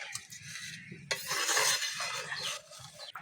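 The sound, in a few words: stirring ghee and spice mix into veg dal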